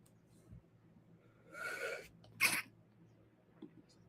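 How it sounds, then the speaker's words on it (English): A single sharp sneeze, preceded by a short inhaling buildup, in an otherwise quiet room. "Ooh, sneezing here."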